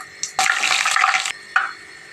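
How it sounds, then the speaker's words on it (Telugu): Cumin, mustard seeds and chana dal hit hot oil in a kadai, a sharp burst of sputtering sizzle lasting about a second, followed by a brief second crackle, close and loud. "కళాయి తీసుకొని సరిపడా ఆయిల్ వేసుకొని ఆయిల్ హీట్ అయిన తర్వాత కొంచెం జీలకర్ర"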